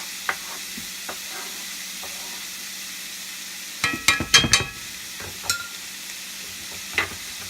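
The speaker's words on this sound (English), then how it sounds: "as the onions are in the pan, starting to get a little translucent" Onions frying in a pan for a spicy meatloaf, with a quiet background sizzle broken by a brief burst of loud stirring and scraping clatter in the middle and a few scattered light knocks.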